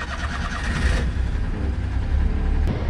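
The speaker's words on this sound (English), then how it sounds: "But the truck is sounding much better." A freshly tuned-up kei truck engine runs at a steady low idle close by, a brighter mechanical whir fading after the first second, alone without talk.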